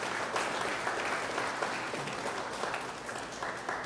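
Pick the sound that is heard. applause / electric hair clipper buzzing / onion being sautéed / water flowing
applause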